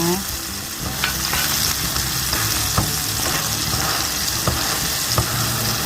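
Bananas fry in salted butter in a covered pan over the lowest heat, giving a steady close sizzle with occasional light taps and clinks of a ladle, and no voices.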